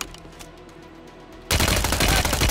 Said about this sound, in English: he's shooting through the wall